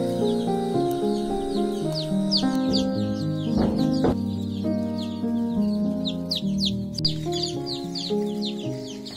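Desi poultry chicks scurry about on newspaper spread on a farm floor, giving a steady stream of high chirps and soft clucks close by, with a low background hum throughout.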